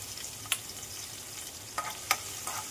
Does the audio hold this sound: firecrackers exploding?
no